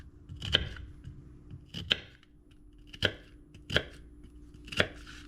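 Knife chopping through aging onions on a cutting board for a one-pot beef and noodles dish: five sharp, evenly spaced chops ring out close and clear, with no voice over them.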